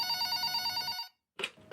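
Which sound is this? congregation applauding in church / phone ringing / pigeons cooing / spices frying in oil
phone ringing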